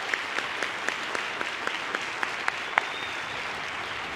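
Steady applause from a graduation audience honoring teachers at a high school class of 2019 ceremony, a dense even wash of many hands with a few louder claps standing out, continuous throughout.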